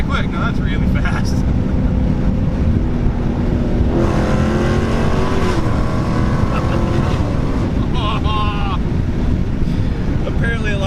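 Supercharged V8 of a 2016 Dodge Challenger Hellcat pulling hard from a rolling start, a loud rising engine note under steady wind and road roar, with people talking over it inside the car.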